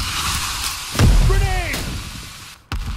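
A grenade blasts in the Roblox shooter CBRO, a sudden low boom near the middle that fades into a rumble while game voice lines and radio chatter play around it.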